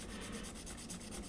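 Rapid back-and-forth rasping of sandpaper sheets rubbed over a scale model spacecraft part, quiet and rhythmic with no voices.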